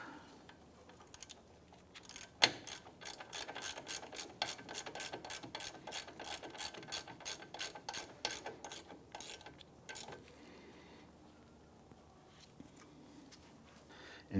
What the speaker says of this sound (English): I'm just going to throw a ratchet on there, snug that down